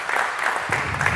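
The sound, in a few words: applause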